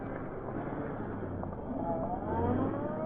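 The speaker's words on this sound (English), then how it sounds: "When the sound of Roger's departing car had faded" A car drives steadily at moderate distance, its engine a continuous low rumble with a slight rise in pitch, no voices over it.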